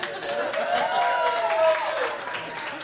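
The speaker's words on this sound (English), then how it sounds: "That's sad that we just applauded that." Audience applause and cheering fill a stand-up comedy show in Alaska, steady and moderately loud from start to finish, with scattered voices calling out within the crowd.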